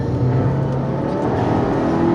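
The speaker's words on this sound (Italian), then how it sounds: "Il motore, vi stavo dicendo, è il 1400 T-Jet, una vecchia conoscenza, un 4 cilindri turbo sovralimentato qui con turbina Garrett" Abarth 595 Competizione with its 1.4 T-Jet turbocharged four-cylinder engine and Garrett turbo, heard from inside as a loud, steady engine drone with a slight rise in pitch near the end.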